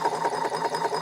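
A homemade reciprocating electric motor with very little power runs steadily nearby, making a fast, even buzzing chatter that stays loud and alone for the whole moment.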